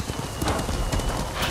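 Horse galloping in Ghost of Tsushima: rapid, rhythmic hoofbeats thud close and loud with rattling tack, a continuous clip-clop pattern that fills the moment.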